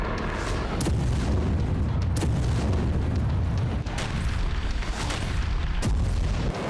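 Missile strikes in Ukraine send heavy, rumbling booms rolling through the air, with several sharp blasts and cracks breaking over a sustained low roar.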